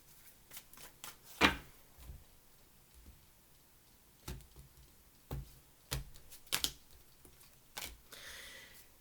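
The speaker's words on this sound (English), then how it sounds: "Two more shuffles." Sparse, papery tarot card shuffles and taps, a few distinct flicks spread out with quiet gaps, close and fairly soft.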